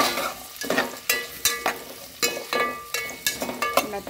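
Sliced onions fried in a pan for brown onions, stirred with a utensil: a steady sizzle punctuated by regular scraping stir strokes about every half second, close and clear.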